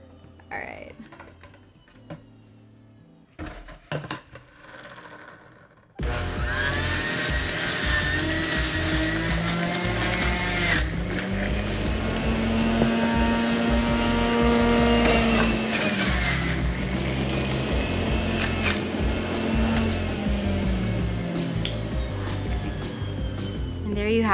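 An electric juicer grinds and whirs loudly through pineapple, a continuous motor roar with rattling pulses, preceded by a few quieter clicks and knocks.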